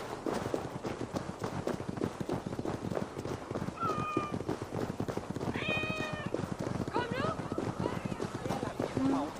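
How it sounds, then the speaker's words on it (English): Cats in Assassin's Creed Valhalla give several brief meows over a busy bed of footsteps and hooves, while someone speaks throughout. "My cats. Come here, my darlings."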